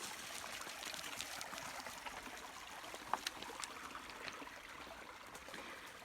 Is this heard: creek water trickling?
yes